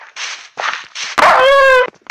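Dogs in a Minecraft-style survival game, a few short yips and barks followed by a drawn-out whining howl, loud and close with no talking.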